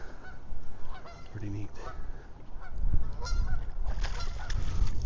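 Geese honk by the Cedar River in George Wyth State Park, their calls mixing with wind rumble and a brief spoken remark.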